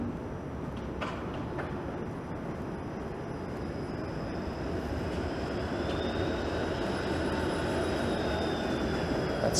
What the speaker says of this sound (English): That streetcar will be turning around at Roncesvalles in Queen